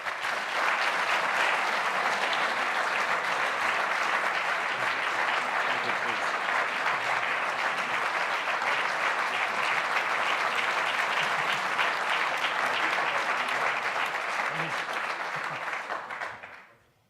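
Sustained audience applause at a chairmen event, steady and loud for about sixteen seconds before fading out abruptly at the end.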